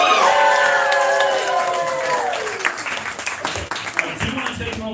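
Local Atlanta crowd at a Sunday Assembly convention cheering and clapping during a shout-out, loud mixed whoops and applause that gradually thin out into scattered claps and voices.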